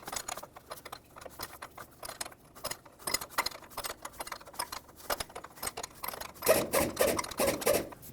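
Wrench ratcheting and scraping on a 16mm high-pressure power steering line fitting of a 2003-2008 Toyota Corolla, a run of close, dry rasping clicks that grows louder and denser near the end.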